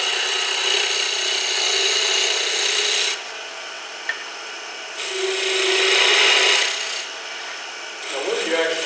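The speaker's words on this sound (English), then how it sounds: "you can actually cut a cove or a taper with a skew pretty good" A skew chisel cuts a wooden spindle turning on a lathe, making a steady, close scraping and rasping hiss that stops and restarts in several passes, with a short tap in one of the breaks.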